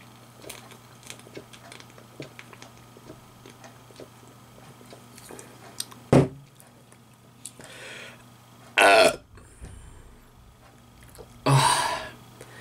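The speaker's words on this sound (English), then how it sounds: "My burps are getting louder and longer every single day from now on." Three loud, separate belch-like bursts from a man at close range, spaced a few seconds apart, the last two longer and more drawn out, over a faint steady background hum.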